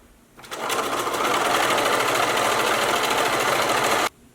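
Sewing machine running a steady line of stitching on a folded shorts waistband, about 3/4 inch from the top, forming an elastic and drawstring channel; continuous close whirring motor with a rapid needle rhythm, starting and stopping abruptly, no talk.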